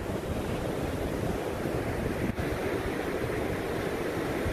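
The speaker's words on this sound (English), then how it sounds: "Wind blowing. Water sound beautiful." Waves and wind by the water: constant surf wash with heavy wind buffeting the microphone, loud and unbroken throughout, no voices.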